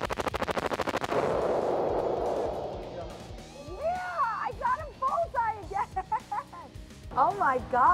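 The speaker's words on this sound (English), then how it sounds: "you can shoot something as small as a handgun or hit the bullseye with an old school machine gun" Handgun and old-school machine gun fire at an indoor shooting range in Las Vegas, first a rapid automatic burst of evenly spaced loud shots for about a second, then a long booming decay, followed by excited voices talking and calling out.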